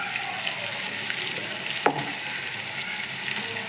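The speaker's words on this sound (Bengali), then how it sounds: "আবার আমি ভালো করে কষবো।" Spices sizzle and fry in a pan for a homestyle mutton curry, a steady close crackle with a brief clatter of stirring partway through.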